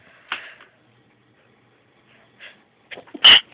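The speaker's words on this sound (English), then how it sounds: "I'm gonna sneeze again" A single sharp sneeze bursts out near the end, preceded by a few soft breathy sounds and quiet gaps.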